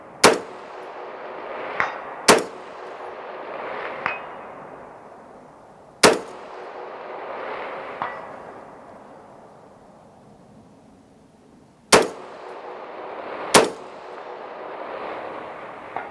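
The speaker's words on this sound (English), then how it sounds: "That's why you're shooting a gas gun." A gas-operated rifle fires five loud, sharp shots at steel targets during a shooting drill, each followed by a long outdoor echo, with fainter metallic pings from steel hits between them.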